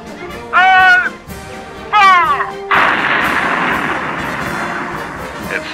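A loud cannon blast booms out after two short shouted calls, its roar rolling on and fading slowly; the cannon is fired with a red-hot wagon rod.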